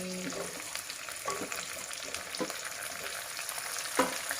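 Tomato and cucumber frying in a pan, a continuous soft sizzle with a few sharp spoon clinks against the pan, close and moderately quiet, no speech.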